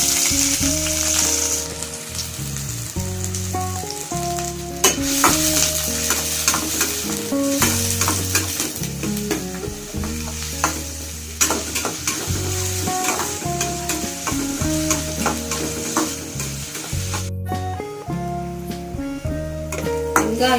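Finely chopped onion frying in hot oil in a pan, a steady close sizzle with intermittent scraping and stirring strokes throughout, and no speech over it.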